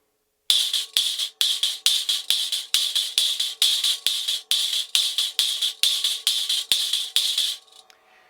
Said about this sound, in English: I thought I'd use the Crasher instead of a hi-hat.